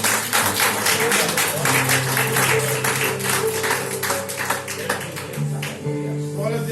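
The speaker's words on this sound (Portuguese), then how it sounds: "E as palmas louvam ao Todo-Poderoso." Congregation clapping during a church service, a dense run of claps with steady rhythmic pulses over sustained musical tones, fairly loud and continuous throughout.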